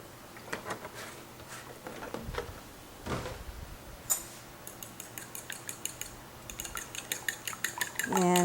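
Egg and a tablespoon of milk whisked with a fork in a bowl, quiet at first, then a brisk run of close, rhythmic clinks and taps against the bowl that grows faster and louder.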